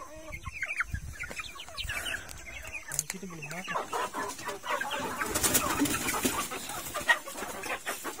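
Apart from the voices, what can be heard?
free-range village chickens clucking while being fed corn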